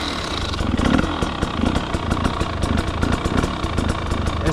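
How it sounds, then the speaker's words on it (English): An enduro motorcycle engine runs steadily at idle at close range in a national park setting, with a continuous low, throbbing mechanical rumble and a few slight revving swells, no talk over it. "In order just to start the bike like a few meters."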